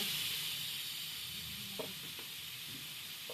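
Prawns frying lightly in a pan with a little turmeric, giving a steady soft sizzle and hiss throughout with a couple of faint clicks, fairly quiet and with no voices.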